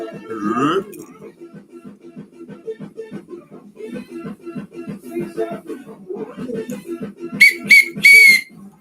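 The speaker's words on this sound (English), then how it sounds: "Oh, there's a whistle." A blue whistle gives three short, shrill toots near the end, each sharp and close, following a stretch of low, rumbling breathy noises.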